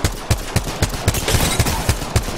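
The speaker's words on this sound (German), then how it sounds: "Nahe Schüsse." Nearby gunfire in the Apex Legends battle royale game, a rapid run of about nine evenly spaced sharp shots with a steady game backdrop beneath and no speech.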